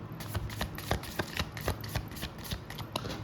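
Tarot cards being shuffled by hand close to the microphone, a repeated series of crisp riffling bursts in an uneven rhythm with no voices.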